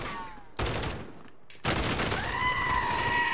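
Bursts of rapid gunfire from Call of Duty Warzone fill the scene, a first salvo followed by a denser, sustained volley that rings on with a high whine, loud and close.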